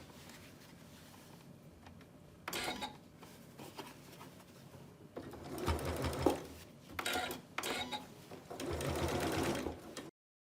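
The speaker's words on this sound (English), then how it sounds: "Take this back to the sewing machine" A sewing machine top-stitches a fabric face mask in several bursts of rapid mechanical stitching, separated by short pauses, fairly close and moderately loud.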